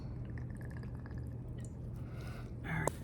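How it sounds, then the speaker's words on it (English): Homemade apple cider vinegar is poured into a container in a short liquid trickle with small drips, close and fairly quiet, ending with a brief splash. "I'm also going to put a little bit of my homemade apple cider vinegar in here."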